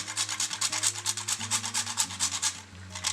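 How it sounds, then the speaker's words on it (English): Fresh nutmeg is grated in quick, even rasping strokes, a close, soft scraping rhythm repeating about six times per second, with a low steady hum beneath, then easing off at the end. "I'm grating some fresh nutmeg."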